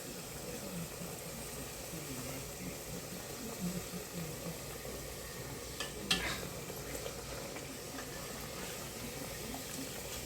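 Corn tortilla frying in shallow hot grease at home, a soft continuous bubbling sizzle with a brief clatter midway, fairly quiet and close, no talk.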